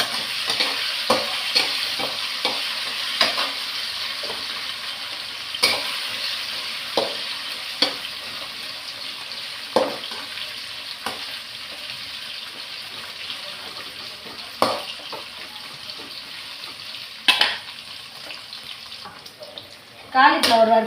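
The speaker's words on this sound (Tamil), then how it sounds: "காலிஃப்ளவர் வறுத்துட்டேன்" Cauliflower 65 frying in a pan of hot oil gives a steady, bright sizzle, broken by regular sharp scrapes and clicks as it is stirred, with a louder clatter at the very end.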